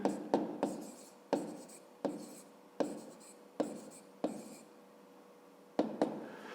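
A pen scratches out a fifth-grade math equation by hand, a quiet, close series of short strokes and taps in irregular rhythm with brief pauses between marks.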